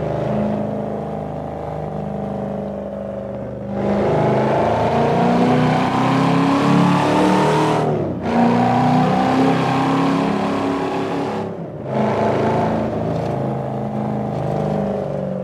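A 2002 Chevrolet SS Camaro V8 drones steadily from inside the cabin while driving, with engine harmonics rising and falling through several gear changes marked by brief dips in loudness.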